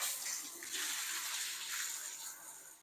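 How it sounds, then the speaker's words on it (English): Water running through a newly installed electric water heater, a steady loud rush and hiss that continues without a break and is heard alone. "you do want to run a little bit of water through your unit"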